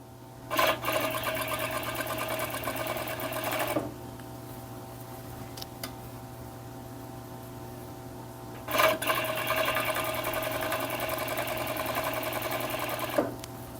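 A domestic sewing machine stitches a women's T-shirt in two sustained bursts of rapid, even whirring, separated by a quiet pause with faint clicks.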